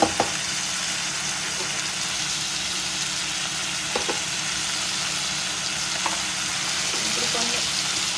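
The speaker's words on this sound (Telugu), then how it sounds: "కొన్ని పచ్చిమిరపకాయలు వేసుకుంటున్నాను." Green chillies sizzle in a hot cooking pan for a bitter gourd curry, a steady close frying hiss with a few soft clinks of stirring scattered through it.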